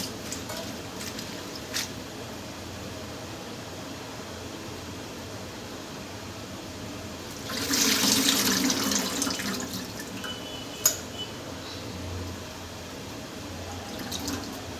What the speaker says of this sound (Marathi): दोन पाण्याने धुवून घेते चांगली